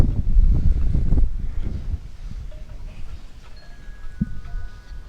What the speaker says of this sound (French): il fait nuageux, il fait venteux aujourd'hui